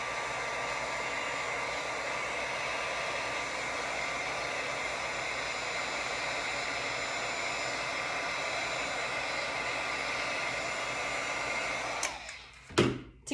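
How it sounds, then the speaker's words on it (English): A heat gun blows hot air onto furniture moulding, a steady, loud, close whooshing roar that runs unbroken for about twelve seconds before it is switched off with a few clunks. "I will heat it up with a heat gun like this"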